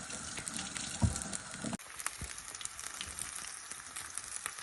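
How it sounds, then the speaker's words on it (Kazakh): Breaded sushi rolls fry in oil in a pan with a steady, soft sizzle, interrupted by a brief clunk partway through before the quiet frying continues alone. "Екі жағында де қызартып қуырып аламыз."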